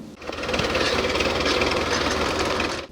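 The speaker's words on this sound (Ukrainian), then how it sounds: "Наразі сюди вийшли трактори, аби підготувати її під створення нового лісу, прибрати бур'яни та переорати ділянку." Tractors ploughing and clearing weeds on a forest plot in Vinnytsia region, with a steady, close engine drone and a rapid mechanical clatter that runs unbroken, and no voices.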